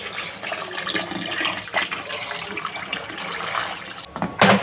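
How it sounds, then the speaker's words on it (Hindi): Water pours steadily into a pressure cooker of beef nihari with bone marrow, a continuous splashing fill close by, ending in a brief louder slosh. "अब इसको पानी डाल के कुकर बंद कर देंगे।"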